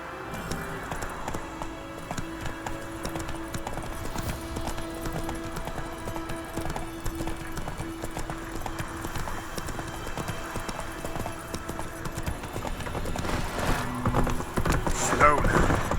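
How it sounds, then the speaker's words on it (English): Horse hooves clip-clop steadily and close in The Witcher 3 as the mount is reined in, a continuous rhythmic trot under spoken dialogue, with ambient game music humming beneath and a brief rise in intensity near the end. "Whoa there, Roach."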